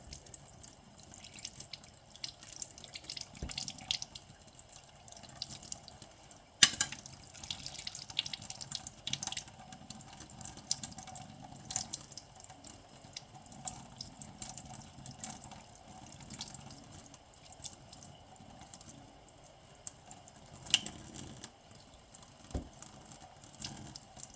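Water runs faintly from a tap, filling a container, with soft irregular trickling and occasional drips and clinks, quiet and close.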